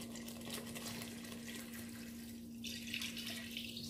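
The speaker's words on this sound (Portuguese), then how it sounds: "Agora vamos acrescentar a água." Water poured into a pot of cooking onion and garlic for Portuguese tomato rice, a steady rushing, hissing splash over a constant low hum.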